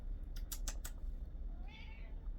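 A cat gives a soft meow after a few sharp clicking sounds, heard close and alone in a quiet room.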